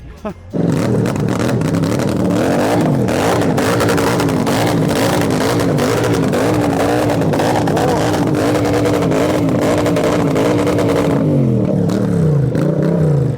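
A 202-horsepower Triumph Bobber motorcycle engine fires up and roars loudly nearby, revving and rumbling continuously with a rough, throaty clatter.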